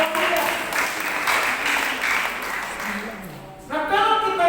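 Congregational applause in a church during a Sunday worship service, a broad steady wash of many hands clapping that fills the space, easing briefly before swelling again near the end, with some voices mixed in.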